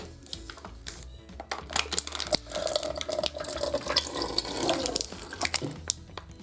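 Water is squeezed from a pretty popular water bottle through a Sawyer Squeeze water filter, with irregular splashing, trickling and drips, plus plastic crinkles and clicks from handling the bottle, up close and with no talking.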